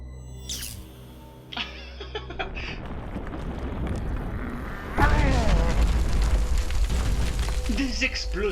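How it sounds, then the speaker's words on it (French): Animated Wakfu energy explosions in a fight between the dragon Grougaloragran and Nox, booming bursts over rumbling, whooshing magical effects that swell louder midway, with voices and sweeping tones mixed in. "Des explosions de Wakfu."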